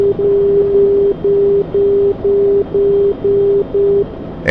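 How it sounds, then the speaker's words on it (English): Aircraft outer marker beacon tone heard in a Huey helicopter during an NDB and ILS approach: a steady mid-pitched tone keyed in repeated dashes, about two per second, loud and clear over low cockpit hum. "That sound you hear right there, that's the outer marker."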